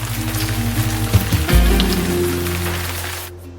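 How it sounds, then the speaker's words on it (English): Rain beginning to fall on a garden, a steady patter of drops spreading over leaves and ground under soft background hum, loudest midway and dropping away abruptly at the end. "the first raindrop fell, and then another, and another."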